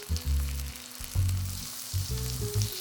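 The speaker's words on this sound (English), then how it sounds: "the signature New York strip steaks, lightly seasoned with just salt, going into a high heat pan" Salt-seasoned New York strip steaks sear in a smoking-hot pan with olive oil, a hissing sizzle running beneath low, sustained tonal sounds that rise and fall in short blocks.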